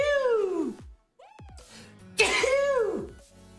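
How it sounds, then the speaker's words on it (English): A person sneezes loudly up close, two explosive bursts with a short pause between, followed by a faint wet aftersound. "I want to sneeze."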